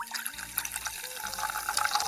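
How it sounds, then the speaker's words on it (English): Liquid poured into a cooking pot gives a continuous trickling, splashing pour, close and fairly soft, with small bubbly gurgles throughout. "Are you pouring it in?"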